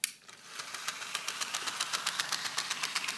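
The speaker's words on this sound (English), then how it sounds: "watch how much Thomas's wheels slip starting out" An HO scale Thomas model train's wheels slip on the rails as it starts out, giving a fast, even ticking and whirring chatter that stays steady and fairly quiet.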